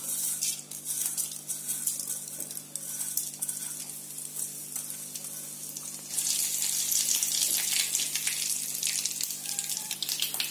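Mustard seeds sizzle and crackle in hot oil in a kadai for a tempering: a continuous hissing fry that grows noticeably louder and busier partway through.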